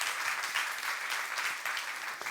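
A church youth congregation applauds to God during a sermon, producing a thick, continuous patter of many hands clapping at moderate loudness, steady from start to end with no speech.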